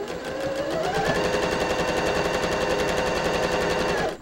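A sewing machine runs steadily at close range, its rapid needle stitching forming a fast, even mechanical chatter that holds for about four seconds before stopping.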